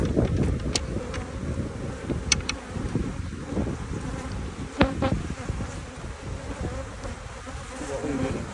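Honeybees buzz in and around a hive box, a dense close drone with individual bees zipping past the microphone, over gusty wind noise.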